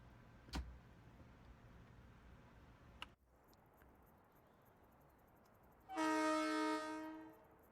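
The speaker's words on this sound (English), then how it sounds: "Quick honk." A short electric-style horn blast from a commuter train in Train Sim World 2 on a New York Harlem line, a bright tonal honk lasting about a second and a half after quiet cab ambience with a few clicks.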